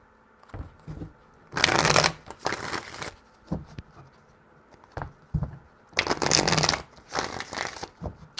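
A deck of tarot cards is shuffled by hand in two bursts, each a loud riffling flutter followed by softer taps and shuffles as the deck is squared, close and clear with no talking.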